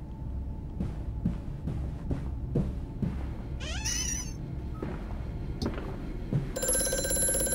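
Telephone ringing in the horror game Amnesia: A Machine for Pigs, a faint, dim ring among scattered clicks and thumps, with a brief bright chirping burst toward the end.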